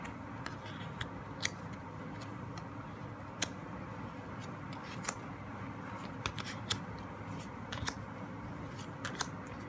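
A deck of tarot cards being taken out and handled up close, with scattered crisp clicks, taps and light card flicks over a quiet room hiss, no talk.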